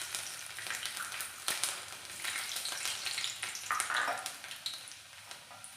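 Garlic hits hot oil in a pan, a dense, steady frying crackle and hiss that stays loud and close throughout with a few sharper pops.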